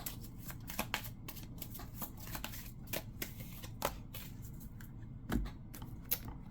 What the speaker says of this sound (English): So we're going to pull a card here.